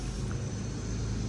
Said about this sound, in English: Sorry about the construction noise happening behind here and the big trucks going past.